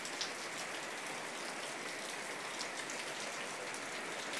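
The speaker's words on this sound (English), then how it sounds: "It's pouring rain." Heavy rain pours steadily and loudly, a dense even hiss on surfaces with no pauses and no other sounds.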